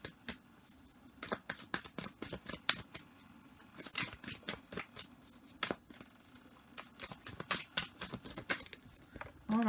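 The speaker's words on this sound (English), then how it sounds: "I'm gonna pull 3 cards." Tarot cards are shuffled by hand and then drawn from the deck, producing quiet, close riffling and flicking bursts in an irregular rhythm, with soft slides and taps between them.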